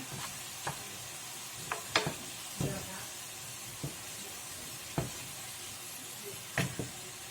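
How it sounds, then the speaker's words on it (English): Ground beef sizzles steadily in a hot frying pan, with occasional sharp scrapes and clacks of a utensil stirring. "So you can see we've browned off all of this beef. It's sizzling away nicely."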